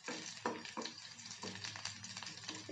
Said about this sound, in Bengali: এখন রসুন আর কাঁচা লঙ্কাটাকে একটু ভেজে নিতে হবে।